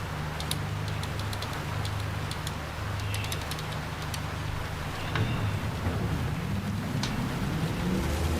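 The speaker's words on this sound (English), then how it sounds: "And it is raining." Steady rain pours over a race car during a wet qualifying session in Gran Turismo 7, a constant broadband wash with a low engine drone beneath and scattered sharp ticks of drops.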